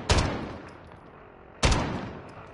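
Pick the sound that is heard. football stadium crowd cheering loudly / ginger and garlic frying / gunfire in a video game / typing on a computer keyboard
gunfire in a video game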